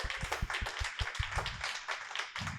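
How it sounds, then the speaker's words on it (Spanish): A small audience at a Spanish-language conference claps for a fellow participant, with sparse, distinct hand claps in an uneven rhythm, close and moderately quiet. "Vamos a darle otro aplauso a la compañera."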